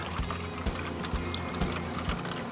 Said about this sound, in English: I've got 2 cups of beef broth that I'm gonna pour in here